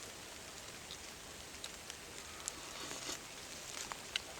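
Steady rain patters on a surface, a soft continuous hiss with occasional louder drips, fairly faint and even throughout.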